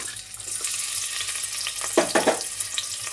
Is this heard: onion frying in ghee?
yes